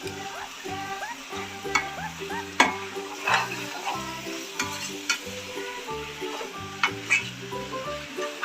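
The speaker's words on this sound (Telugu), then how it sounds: "మనకి ఇష్టమైనది వచ్చి మంచిగా కలుపుకోవాలి. మసాలా మొత్తం చికెన్కి పట్టాలి." Masala being stirred into chicken frying in a pan, a continuous sizzle with repeated scraping and clinking of a spoon against the pan, close and steady, and a melodic tune plays in the background.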